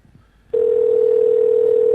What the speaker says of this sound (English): You might hear a little bit of a ringing sound.